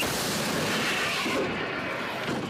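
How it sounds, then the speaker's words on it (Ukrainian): A heavy artillery blast from an FH-70 155 mm self-propelled howitzer firing: a powerful, loud boom with a long rumbling roar that fills the moment and slowly fades. "Постріл!"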